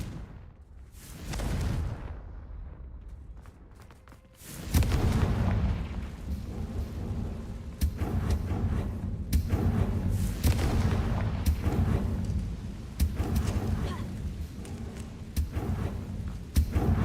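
The Confringo fire spell in the video game Hogwarts Legacy sets off a series of loud, booming explosive blasts, each followed by rumbling and crackling, with heavy impacts repeating every second or two.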